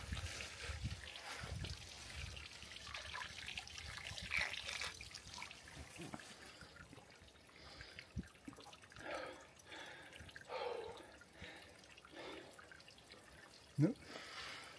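Water trickles and drips from a drinking spring in Bishkek, a faint, uneven outdoor flow with occasional louder splashes and some background voices.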